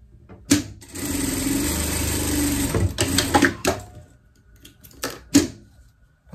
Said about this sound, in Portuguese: vamos dobrar assim, e vamos passar uma costura aqui